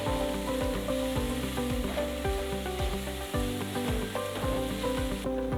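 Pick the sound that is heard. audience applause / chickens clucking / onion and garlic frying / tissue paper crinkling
onion and garlic frying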